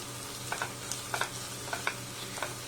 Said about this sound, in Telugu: టేస్ట్కి తగినట్టు సాల్ట్, కారం వేసుకొని ఫ్రై చేసుకోవాలి